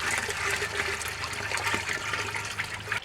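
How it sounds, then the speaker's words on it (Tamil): A biodynamic liquid manure mixture of cow dung, horn manure, jaggery, pulse flour and anthill soil poured into a container, a continuous close splashing gush of liquid for several seconds. "இப்போ நம்ம ஊற்றிட்டோங்க"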